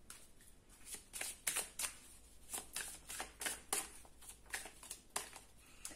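Oracle cards shuffled and drawn by hand, a rapid series of crisp papery riffles and snaps in uneven bursts, close and fairly soft with no talking.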